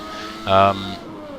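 Engine of a 1993-season ASR Formula open-wheel racing car driven at Estoril in rFactor 2, a brief loud harmonic roar that rises and cuts off within about a quarter second over steady background engine drone.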